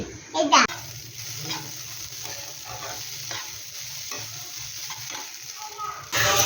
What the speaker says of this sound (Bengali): ভাত একটু বেশি হয়েছিল ওই জন্য ডিম আর টমেটো দিয়ে একটু ভেজে নিলাম